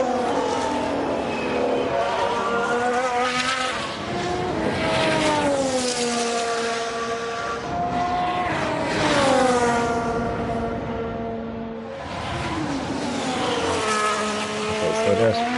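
Formula 1 race car engines from the racing game F1 Manager 2022, several cars screaming past in overlapping high-revving passes with rising and falling pitch, loud and continuous throughout.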